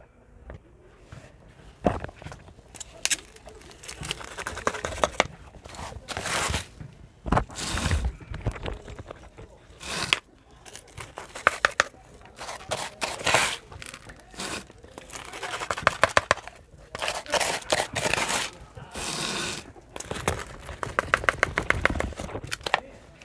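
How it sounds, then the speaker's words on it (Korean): Potting soil is scooped and poured into a pot while repotting a pink Deutzia shrub, then pressed down, giving repeated dry rustling, crumbling and scraping bursts close by with short pauses, no talk. "흙을 한번 넣어 볼게요."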